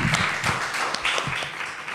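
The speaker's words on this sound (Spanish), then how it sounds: "les pedimos un cálido abrazo y aplauso de bienvenida a Enrique" Audience at an evening forum clapping in welcome for Enrique, a dense spread of hands with a few sharper nearby claps standing out, continuous and moderately loud, with no voices over it.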